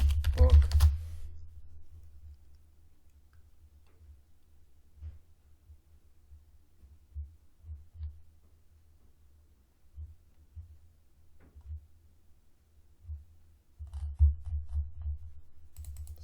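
Keys on a computer keyboard are pressed to type a search, heard as soft, muffled, irregular low taps in bursts with quiet gaps, close by, with a heavier thump at the start.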